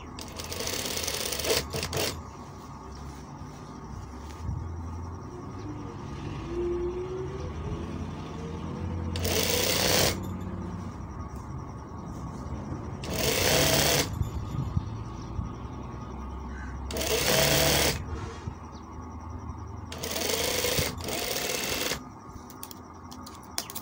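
A sewing machine stitches a kameez in several loud, close bursts of rapid rattling, separated by quieter pauses filled with handling and faint background noise.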